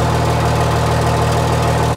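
A Cummins diesel truck engine runs steadily with the truck jacked up and its rear wheels off the ground, giving a loud, close, continuous drone with a low hum and no talking.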